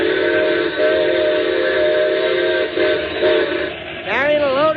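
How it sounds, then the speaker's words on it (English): Steam locomotive whistle blowing a long, steady chord from a train approaching a curve and crossing, then bending into a wavering, pitch-sliding wail near the end; loud and close, with no talk over it. "Better whistle for it"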